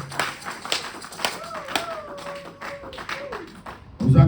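A church assembly congregation claps in a steady rhythm, about two claps a second, while a voice carries a sung or drawn-out line over the clapping.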